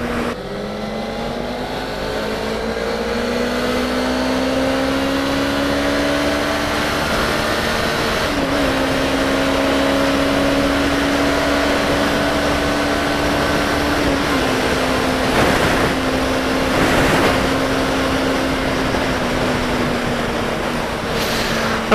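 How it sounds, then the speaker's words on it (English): Steady engine drone of a 2018 Suzuki GSX250R motorcycle on a test ride, a continuous hum whose pitch climbs slowly through the gears with brief dips at shifts, close and loud with wind noise throughout. "The engine sounds good, but you can definitely tell that the engine is a little bit on the anemic side in terms of acceleration"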